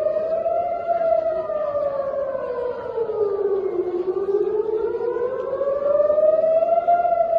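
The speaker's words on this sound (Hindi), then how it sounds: "गाजा से मिसाइल हमले के बाद तेल अवीव में सायरन बजा" A civil defense air raid siren wails over Tel Aviv after missile attacks from Gaza, one loud, steady tone falling into a low dip at mid-clip and then rising again, with no voices.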